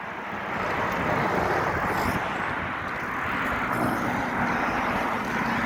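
Steady roadside traffic of gasoline cars passing in Thamesford, Ontario, a continuous broadband engine and tire roar holding at a constant loud level throughout, with no gaps between vehicles.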